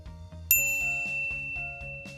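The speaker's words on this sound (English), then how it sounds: "ring the bell to be notified about our latest videos" A single bright notification bell ding rings out sharply and lingers over a steady, rhythmic music bed.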